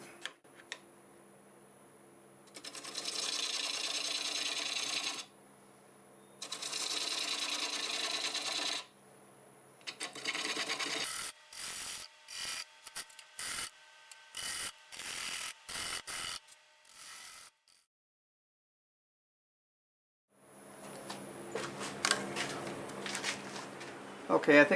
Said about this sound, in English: So we're going to use a 1/2 inch bowl gouge, and we're going to go ahead and do that.